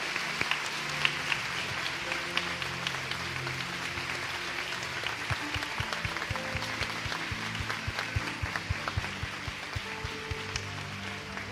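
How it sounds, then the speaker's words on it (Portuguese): Church congregation applauding at the close of a women's worship gathering, a steady moderate wash of many hands clapping throughout, with a faint voice or music hum underneath. "Uma salva de palmas pela vida desses irmãos."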